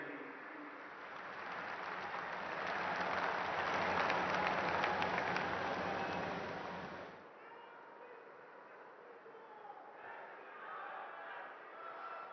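Applause from an audience welcoming Chief Minister Nayab Singh Saini at a public event, a broad clapping swell that builds for several seconds, then drops to a softer, fainter patter with scattered sounds.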